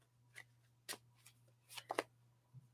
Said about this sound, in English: just gave that a good shuffle